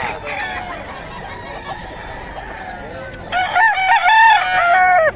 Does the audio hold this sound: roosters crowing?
yes